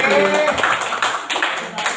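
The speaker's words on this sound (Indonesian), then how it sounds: "Tepuk 1, tepuk 3, tepuk 3 lagi, tepuk 1" A group of teachers claps out a counted pattern of single and triple claps, sharp hand strikes in short clusters, with a voice talking over the start.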